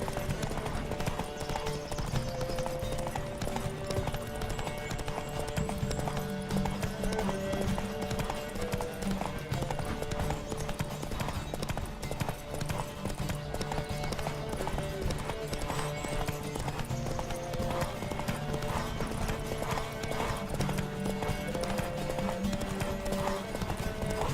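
Steady clip-clop of galloping hooves in The Witcher 3: Wild Hunt runs throughout, with a musical backdrop and an occasional horse whinny, loud and continuous.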